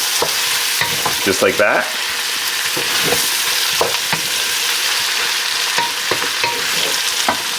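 Plums and sugar warm in a pan while being stirred, giving a steady loud sizzle with scraping strokes throughout. A brief voice is heard.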